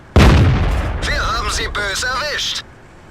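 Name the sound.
tank gun shot in World of Tanks video game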